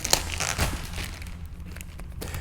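A plastic bag crinkles and rustles steadily up close as a small product is unwrapped, giving a continuous crisp crackling with a few sharper snaps.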